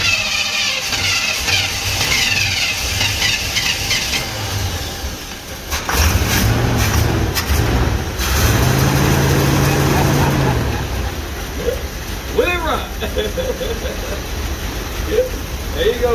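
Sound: 1964 Chevrolet Impala engine running after sitting 25 years

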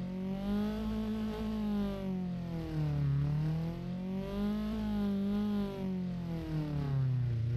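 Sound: 1955 pickup truck engine revving, like a Volkswagen Beetle, BeamNG video game

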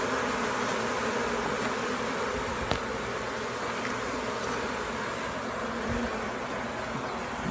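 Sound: honey bee swarm fanning at a mailbox hive box

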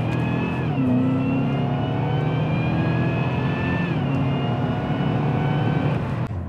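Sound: Cadillac CTS-V accelerating in sport mode

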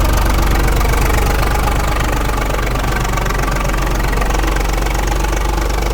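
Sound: tractor engine running before shutting off

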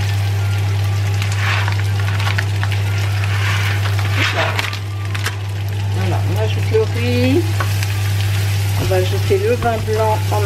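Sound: rice frying in a pan for chorizo and shrimp risotto

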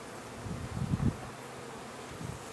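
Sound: swarm of package honey bees buzzing

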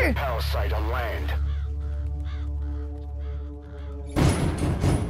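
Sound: birds cawing in Metal Gear Solid V video game

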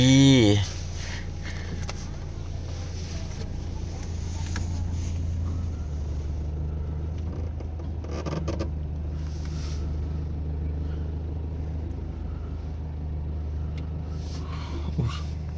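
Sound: vehicle slowly reversing to unload cargo

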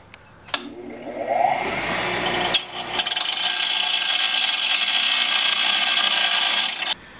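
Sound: bench grinder polishing a metal ninja star

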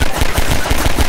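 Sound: gunfire from Half-Life 2 video game

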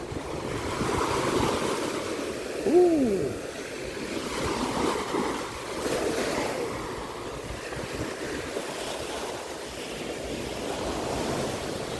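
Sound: sea waves on the beach at Rayong

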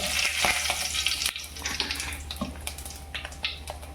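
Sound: bay leaf frying in hot oil

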